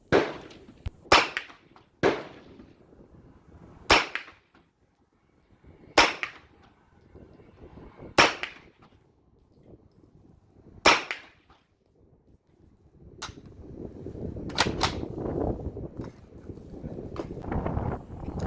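Sharp gunshots from a Romanian WASR M 9mm carbine firing 115-grain rounds at a 100-yard target, about eight spaced cracks at an irregular pace, loud and close, with wind rumbling between them toward the end.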